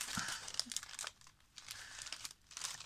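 Paper crinkling and tearing as a glued birthday mail package is pried open, with irregular close crackling bursts and brief pauses, fairly soft throughout.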